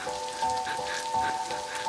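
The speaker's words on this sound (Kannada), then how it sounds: "ಫಸ್ಟ್ ಟೈಮ್ ಕಣೋ ಜಾನ್, ಈ ತರ ಮಳೆಲಿ ನೆನೀತಾ ಇರೋದು" Steady rain patters and splashes on surfaces in a dense, continuous hiss, with a faint tonal hum beneath and no talking.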